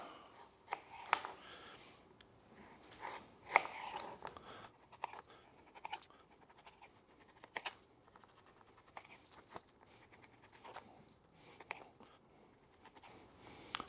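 A knife trims the edges off a 42-day dry-aged New York strip steak, producing faint, irregular slicing and tapping strokes on a board, close but quiet, with no talk.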